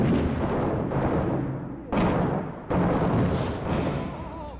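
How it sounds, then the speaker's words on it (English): Heavy booming blasts from grenade explosions in a video game firefight sound amid a dense, continuous rumble, with two sharp thuds striking in quick succession over the roar. "Who's got a grenade? I'm throwing the grenade."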